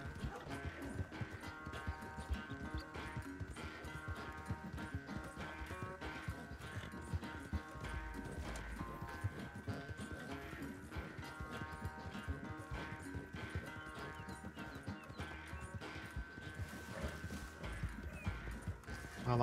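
Rapid rhythmic hoofbeats gallop steadily throughout a horse race in Red Dead Redemption 2, with a sustained musical tone and occasional thuds, sounding like game audio rather than a real horse.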